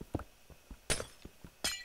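Glass blocks breaking in Minecraft Bedwars, a quick series of sharp clinking shatters, about a dozen rapid crisp hits in under two seconds, close and clear.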